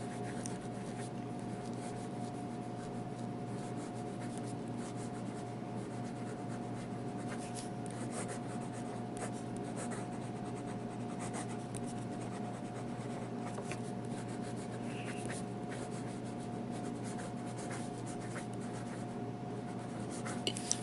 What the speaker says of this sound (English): And then we'll do some writing.